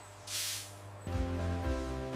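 A coating sprays onto shark cartilage supplements in a factory, a brief soft hiss of spray rising near the start before giving way to steady machinery drone and hum.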